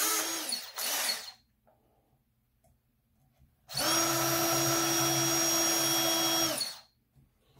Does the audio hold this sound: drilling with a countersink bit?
yes